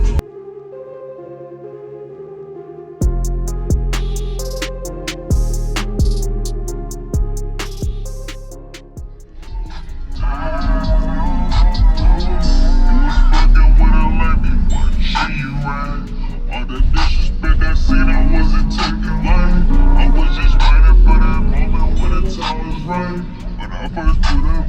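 Car audio subwoofer demo pushing half rated power: booming bass music starts softly, then kicks into loud, dense, sustained low-end playback that dominates throughout.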